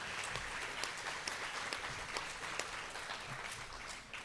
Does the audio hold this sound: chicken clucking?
no